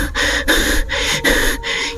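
Heavy, breathless panting from a person in a horror story, five quick loud gasping breaths in a steady rhythm, close and alone.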